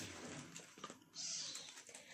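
Small pet cat giving a short meow indoors, faint and close, after brief soft rustling.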